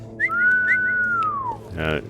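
In the video game CONVRGENCE, a long rising-falling whistle given as a command to a dog, with short chirps at its start. A brief burst of talk follows right after.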